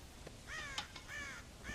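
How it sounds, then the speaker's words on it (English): Crows cawing in the video game Red Dead Redemption, several harsh caws in quick succession, fairly faint and slightly distant against a low ambient background. "God damn crows!"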